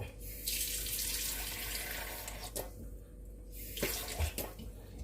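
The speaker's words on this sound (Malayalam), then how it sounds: "ഇത് നമുക്ക് ലേശം വെള്ളം ഒഴിച്ചുകൊണ്ട് അടുപ്പത്ത് വെക്കണം" Water runs in a steady splashing stream while being poured into a cooking pot in a home kitchen, with a couple of brief pauses and clinks of the vessel, no voices.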